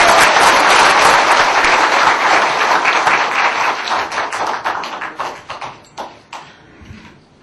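A large crowd at a Korean Agent Orange veterans' association gathering claps warmly to welcome a former president's daughter as speaker, a dense, loud burst that thins into scattered individual claps as it fades.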